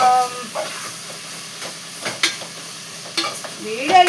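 Tomatoes for a curry are stirred and frying in a pan, giving a soft sizzle with a few scraping stir strokes and short hissing bursts up close.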